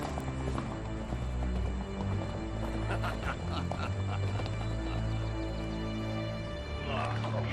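Hooves clip-clop steadily over a dense, continuous bed of background music and ambient noise, with no clear voices.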